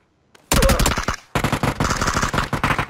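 Gunfire in the battle royale game PUBG: a loud, close stream of rapid automatic shots, a brief pause, then a second sustained burst of rattling fire, with no voices over it.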